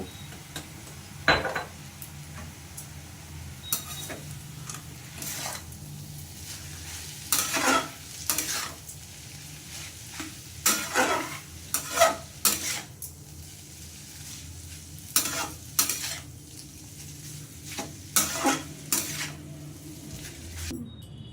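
Chow mein made with ash gourd being stirred through sauce in a pan, a spatula scraping and tossing in repeated bursts over a low sizzle, close and fairly clear.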